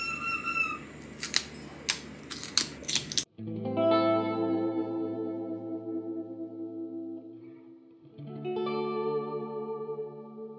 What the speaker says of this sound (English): If you hear the band upstairs,